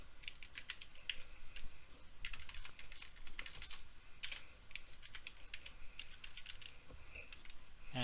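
Someone types a password on a computer keyboard, quick bursts of light close key clicks with short pauses between, quiet and alone.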